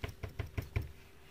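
Five quick, evenly spaced dull taps of fingers on hardened cornstarch and water, close by and fairly quiet, with no talking.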